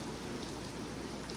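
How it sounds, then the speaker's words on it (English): Steady rain falling on a cabin, a dense continuous hiss of drops on the roof and surroundings, even in loudness throughout with no voices. "So the rain is falling in on our cabin, feeling blessed."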